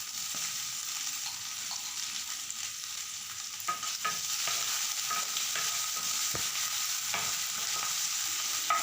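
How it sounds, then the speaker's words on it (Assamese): Ginger, garlic and spice paste fries with onion in a pan for an Assamese pui saak dish, a soft continuous sizzle broken by occasional scraping stirs, with no voices. "আদা, নহৰু আৰু বেহৰৰ পেষ্টখিনি দি এইখিনি মই ভালদৰে ভাজি লৈছোঁ"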